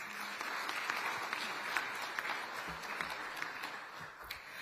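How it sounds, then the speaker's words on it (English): An audience claps for a panelist at a Pacific leadership forum on gender equality, with dense, even applause sustained for nearly five seconds at a moderate distance. "Please give her a round of applause."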